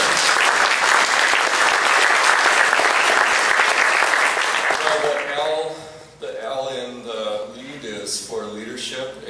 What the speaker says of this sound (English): Something you deserve a big round of applause for,